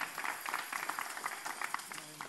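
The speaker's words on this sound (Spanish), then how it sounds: "Un aplauso también" A short burst of audience clapping at a family Christmas novena event, steady dense applause throughout the brief moment, with some voices mixed in.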